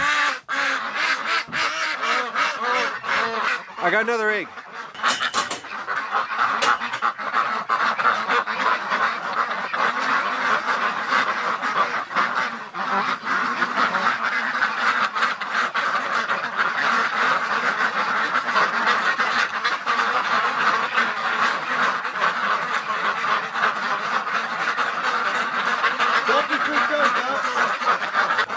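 Ducks quack in a cold winter duck house, a steady chorus of calls throughout, close by, with a person speaking briefly and some handling noise early on.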